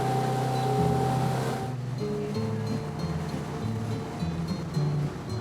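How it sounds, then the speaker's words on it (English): Fishing boat engine running steadily on a river, a low droning hum beneath wash and wind noise, continuous and moderately close. "A little bit loud with the engine on."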